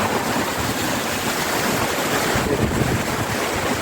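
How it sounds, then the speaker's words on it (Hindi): Fast-flowing rainwater rushing through a street after rain in Saudi Arabia, a steady, loud, broadband roar like a river that continues unbroken the whole time, with no talking over it. "ये देखें जी, मेरे पीछे बहुत जो है तेज़ पानी गुजर रहा है।"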